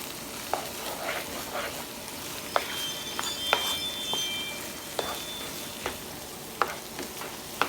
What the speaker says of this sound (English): we got the butter melting down in here